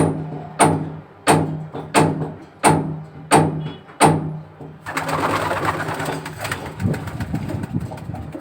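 Racing homing pigeons coo in a steady series of about seven deep, regular calls, then a rustling, noisy stretch with more muffled cooing underneath as the birds are handled.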